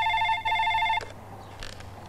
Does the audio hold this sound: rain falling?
no